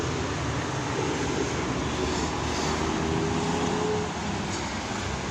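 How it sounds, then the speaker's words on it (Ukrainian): A VAZ 2101 car with a weak battery and a very old gas reducer runs with a steady, loud engine rumble that continues without a break throughout. "Акумулятор слабенький, але заводиться."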